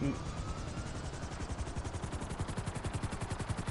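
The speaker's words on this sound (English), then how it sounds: "I have a helicopter." A helicopter in the GTA 5 video game beats with a steady fast rotor chop, loud and continuous throughout, with no talk over it.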